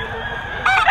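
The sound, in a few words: rooster crowing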